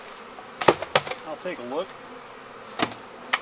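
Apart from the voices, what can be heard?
honey bees buzzing in a beehive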